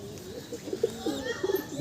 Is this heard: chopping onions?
no